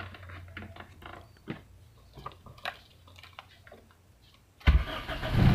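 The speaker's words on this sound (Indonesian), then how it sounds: "kita coba ya hidupkan mesinnya" Soft clicks and rustling, then a Toyota Great Corolla engine cranks and catches, roaring to life near the end, loud and close.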